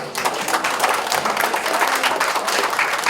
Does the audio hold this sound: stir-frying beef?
no